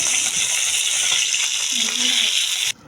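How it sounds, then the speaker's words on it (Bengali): Bhola fish frying in a pan, a loud, steady sizzle heard close up that cuts off abruptly near the end; a brief low tonal sound occurs midway. "দেখো ভোলা মাছটিকে ভেজে নিচ্ছে, যে মাছটা হবে।"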